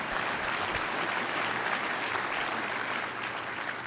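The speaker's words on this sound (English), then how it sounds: "Did I hear a round of applause there?" Applause from an audience at a Walmart open call business event, a dense, continuous wash of many people clapping, loud and even before tapering slightly near the end.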